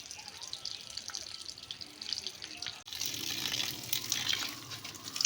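Water gushes from a hose pipe onto a garden, a steady close hiss that grows fuller and louder after a brief break midway, with faint voices in the background.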